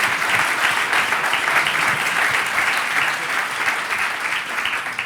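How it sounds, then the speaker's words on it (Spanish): A large audience at a contact lens round-table forum applauds the four speakers, steady dense clapping sustained throughout at full volume with no voices over it. "yo creo que le tenéis que dar un gran aplauso a los cuatro"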